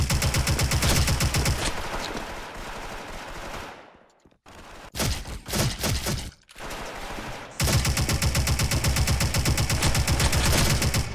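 Sustained automatic fire from an MG36 machine gun in the Special Force online shooter, long loud bursts of rapid shots broken by a brief lull with scattered shots before heavy firing resumes.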